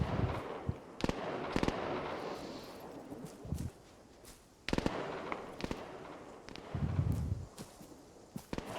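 Gunfire in the video game ArmA 3, several sharp, loud bursts and cracks at irregular intervals, with quieter gaps and a low rumble between shots.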